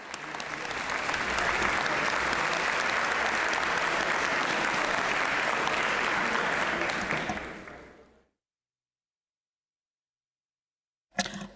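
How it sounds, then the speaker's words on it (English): A chamber gallery at a state House session gives a warm round of applause for visiting students, steady and full for about eight seconds before cutting off into silence, with a brief burst near the end. "Let's give them a nice warm round of applause."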